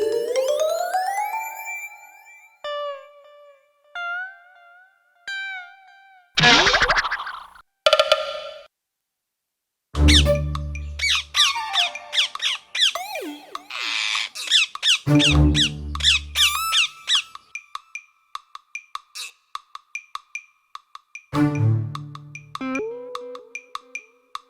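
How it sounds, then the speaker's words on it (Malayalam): Cartoon parrots in a kids' animated monkey story squawk and squeak in quick, high bursts as they escape a cage, mixed with zany cartoon effects and a few loud thumps. "ചെമ്പന്റെ സഹായത്താൽ രക്ഷപ്പെട്ട തത്തകൾ ചെമ്പന്റെയും അമ്പുവിന്റെയും പിന്നാലെ"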